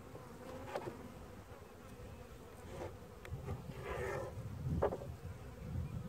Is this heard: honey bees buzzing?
yes